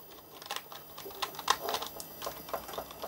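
Typing on a cordless Bluetooth keyboard connected to an Amiga 4000T, with a quick run of light, irregular key clicks close to the mic and no talking.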